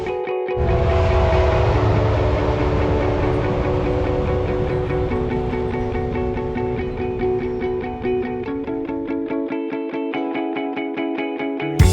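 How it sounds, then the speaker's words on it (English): A Tilt Train passes close by at Hervey Bay, Australia, with a loud, sustained tonal rumble, followed by rapid rhythmic clacking of wheels over rail joints as it fades. "Oh, It's the tilt train. that's the tilt train."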